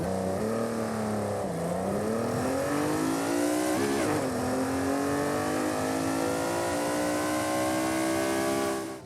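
A heavily modified 1350 hp Fiat Dino in Forza Horizon 5 revs hard and alone, its engine climbing, dipping and climbing again in steady loud sweeps before fading at the end.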